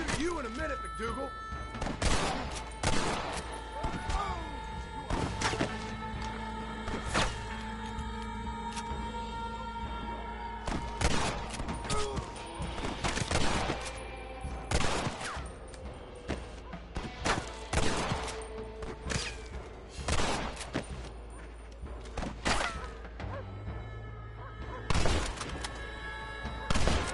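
A shootout in the video game Red Dead Redemption fills the scene with rapid, overlapping gunshots and sharp cracks in dense volleys, alongside tense spoken dialogue.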